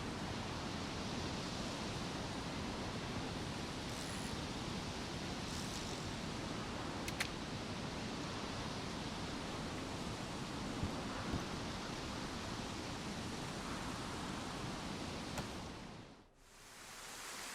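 A small stream in the DayZ video game flows in a steady, soft wash of water that stays even and alone for most of its length before briefly dropping out near the end.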